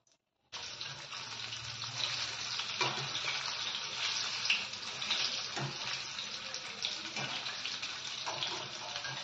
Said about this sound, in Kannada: ಒಂದೊಂದಾಗಿ ಇದು ಹೀರೆಕಾಯಿನ ಇದರಲ್ಲಿ ಡಿಪ್ ಮಾಡಿಬಿಟ್ಟು ಎಣ್ಣೆಯಲ್ಲಿ ಬಿಡೋದು